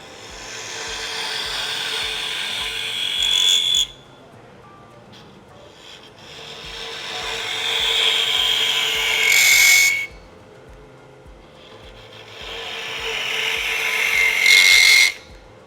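Wood lathe with a spinning workpiece being hollowed out by a turning tool, cutting in three long scraping passes broken by brief pauses, with the motor humming steadily underneath throughout.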